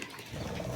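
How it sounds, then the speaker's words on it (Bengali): Quails, about 2000 of them, each around 100 grams, on a farm in Ishwarganj, Mymensingh, let out a brief burst of soft cooing and chirping calls that overlap as a dense flock. "এখানে আপনার 2000 কোয়েল পাখি আছে"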